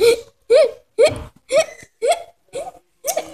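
A voice imitates hiccups, seven short sharp gulping yelps in an even rhythm, each about half a second apart, close and clear.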